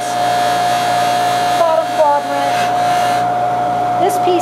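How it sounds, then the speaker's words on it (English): Buffing wheel on a polishing motor giving a light shine to textured metal, a steady loud motor whine with a constant tone, briefly changing pitch as the metal meets the wheel. "I'm just going to do a real light polish on the top of it to put a shine on there"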